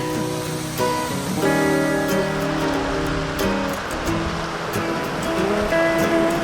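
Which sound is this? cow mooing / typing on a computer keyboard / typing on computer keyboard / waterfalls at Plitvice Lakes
waterfalls at Plitvice Lakes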